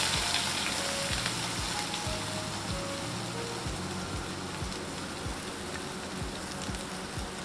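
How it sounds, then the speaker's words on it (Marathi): Ground masala paste for Malvani fish curry fries in hot oil in a pan: a steady, close hiss of sizzling broken by regular soft low thumps, with no voice over it. "आणि जे तुम्ही वाटण केलेलं आहे मिक्सरमध्ये ते त्यात घाला।"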